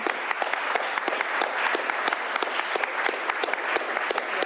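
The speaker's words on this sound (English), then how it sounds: "A round of applause for Senator Shoemake and the team." Applause at a state bill signing ceremony honoring a state senator: a dense, steady burst of many hands clapping close by, with individual sharp claps standing out throughout.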